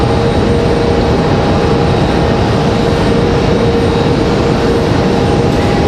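American Airlines Boeing 777 at Raleigh-Durham International Airport, a loud, steady jet engine roar with a constant whine, close and unbroken throughout.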